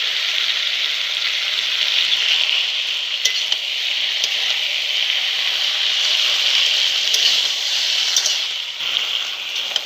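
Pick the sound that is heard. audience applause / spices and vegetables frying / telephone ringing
spices and vegetables frying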